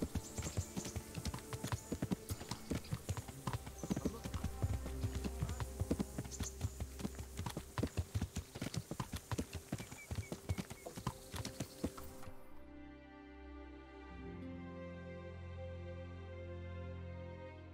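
Rapid, rhythmic hoofbeats of a galloping horse in the video game Kingdom Come: Deliverance clatter steadily for about twelve seconds, then stop abruptly, leaving a quieter sustained background tone.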